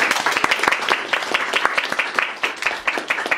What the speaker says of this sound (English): let's give a big round of applause for our honey Bhakta